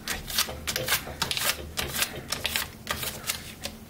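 Strips of kraft tape are pressed onto a printed T-shirt and peeled away to lift leftover film from a foil DTF print, making a quick series of crackling, rasping tears at close range with no talk.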